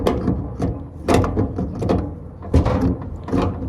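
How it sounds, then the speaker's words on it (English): A motor pulley is turned and unscrewed off a clothes dryer motor, producing close, loud metallic scraping and ratcheting clanks in uneven bursts with no talking. "right now I'm turning to the right, but I'm removing the motor pulley off the motor"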